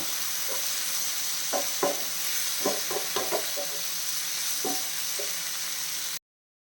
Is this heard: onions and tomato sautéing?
yes